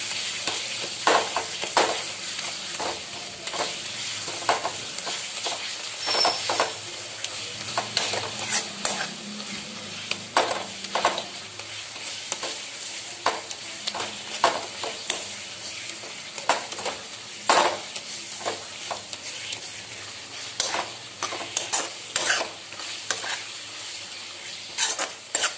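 Cooked tomatoes are mashed and stirred in a frying pan while making gravy for Bagara rice. A soft continuous sizzle runs under repeated scraping and tapping of a utensil against the pan, with no talking.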